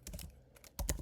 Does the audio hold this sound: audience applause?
no